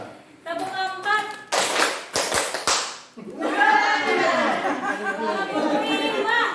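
A quick series of sharp hand claps in a fast-paced classroom clapping game, clustered in a short burst between stretches of an adult voice giving instructions.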